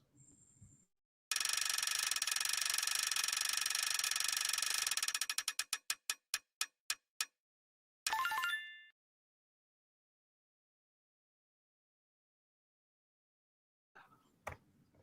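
Prize wheel spinning with rapid dense clicking that gradually slows into a few spaced ticks and stops, followed by a short burst of sound and near silence.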